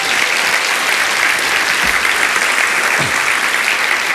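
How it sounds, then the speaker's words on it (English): Loud, dense, sustained applause from a festival audience for a comedian at a satire panel, a continuous wash of many hands clapping close, with a couple of low thumps. "That's Jordan, everyone. Big round of applause."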